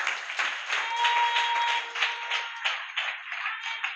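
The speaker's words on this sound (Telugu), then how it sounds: "చప్పట్లు కొట్టండి గట్టిగా." A church congregation claps hard and steadily, a dense wash of many hands filling the space, with a sustained tone ringing faintly underneath.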